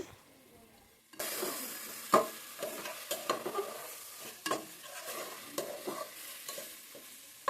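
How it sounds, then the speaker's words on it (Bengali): Onion with ginger-garlic paste sizzles in a pan while a utensil stirs it, giving repeated scraping knocks over a steady crackle that begins abruptly after a quiet first second. "পেঁয়াজটা একটু বাদামি কালার হয়ে আসলে আমি দারচিনি এলাচ তেজপাতা দিয়ে দেব আদা রসুন বাটা দিয়ে দিচ্ছি"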